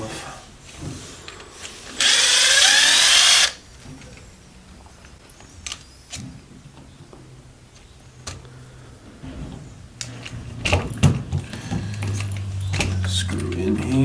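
A power drill backs screws out of a Traxxas Rustler 4x4 RC truck, giving one loud, close, continuous whirring burst of about a second and a half, followed by scattered handling clicks and rattles of parts.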